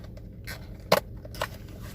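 A dashcam package is opened with a few quiet, close snips and crinkles, one sharper cut in the middle and a softer rustle after it.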